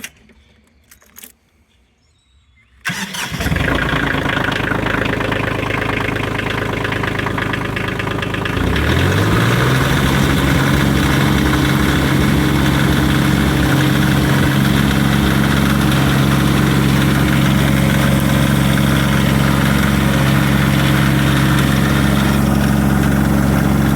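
A Kioti CX2510 compact tractor engine starts after a few quiet seconds and settles into a steady, loud diesel idle, with a rough knocking rumble and vibration that rises slightly and then holds for the rest of the clip.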